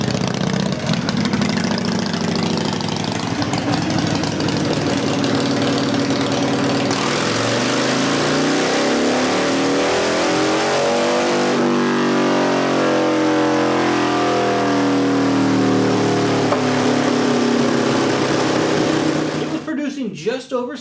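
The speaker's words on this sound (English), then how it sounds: "this week I took this motorcycle down to the dyno and had it run" A stock-engine motorcycle fitted with Vance & Hines pipes running on a dyno, its loud continuous exhaust roar climbing and sweeping through the revs for a long pull before dropping off at the end; someone talks over it.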